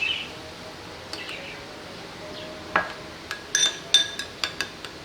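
A spoon scrapes and clinks against a metal karahi while ground fennel, cumin, coriander and mustard seed are mixed with lemon juice: scattered sharp taps, sparse at first, then a quick cluster of close metallic clinks.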